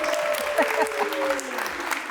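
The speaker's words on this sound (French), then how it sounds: "Vous pouvez vous applaudir." A live show audience applauds steadily throughout, a dense wash of clapping with a voice running over it.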